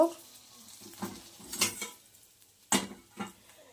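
Fried parshe fish tumbles into a dry pot, making a few scattered metallic clinks and clatters with quiet pauses between them, heard fairly close.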